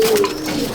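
A single low coo comes from a pigeon in a racing pigeon loft that holds Coimbatore, Chennai and imported racer birds. It is short and fairly clear over a soft background.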